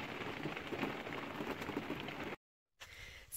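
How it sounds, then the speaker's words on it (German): Rain falls steadily in Portugal, a soft, even patter of drops that breaks off briefly into silence and then resumes more faintly. "Ja, es regnet, ne?"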